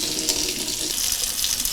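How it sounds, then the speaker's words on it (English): Hot water runs from a tap into a measuring cup, a steady loud hiss and splash lasting throughout with no talk. "we're going to take the other measuring cup and run hot water into it"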